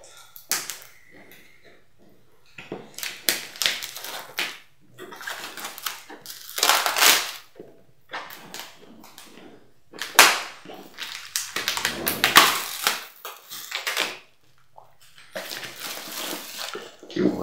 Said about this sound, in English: plastic wrapping out of the way, and let's get the box open.